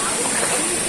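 Flowing river water in General Nakar, Quezon: a brief, close, steady broadband rush of water with no pauses.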